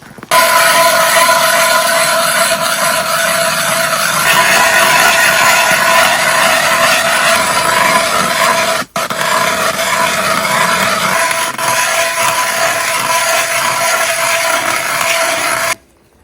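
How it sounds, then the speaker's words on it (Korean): A powered drill bores holes through roughly 30 cm of thick frozen pond ice, making a loud, continuous grinding whine that cuts out briefly midway and then resumes until it stops at the end. "구멍을 많이 뚫을게요"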